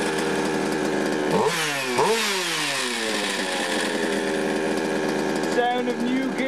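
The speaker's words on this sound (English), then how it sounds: "Sound of new gears together, always a familiar sound when you put new gears in." A rebuilt car engine fitted with new gears runs with a steady mechanical whine, its pitch swooping up and down twice before settling into an even drone.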